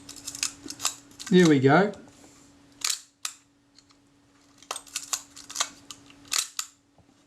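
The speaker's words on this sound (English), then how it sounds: "Okay, so the shutter's cocking." A Kodak Retina Reflex IV with a jammed shutter is cocked during repair, giving sharp mechanical clicks and a short ratcheting wind close up, with brief speech between the clicks.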